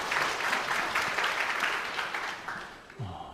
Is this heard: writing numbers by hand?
no